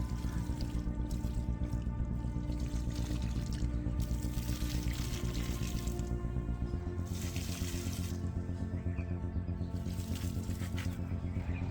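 Homemade liquid fertilizer steeped with fruit pieces is strained, giving a steady, unbroken pour and trickle of liquid that runs close and even for the whole stretch, with no talking.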